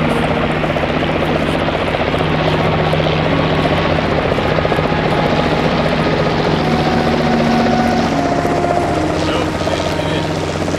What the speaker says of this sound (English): Oh, going to the helicopter.